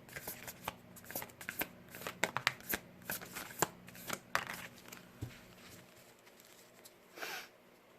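Tarot moon cards being shuffled by hand, a steady run of close riffling and flicking card sounds for several seconds, ending in a brief softer rustle.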